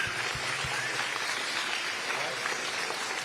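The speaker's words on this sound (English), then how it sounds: "Give yourselves a big round of applause." Audience applause at a public event, a steady wash of clapping throughout with a few sharp low thumps near the start.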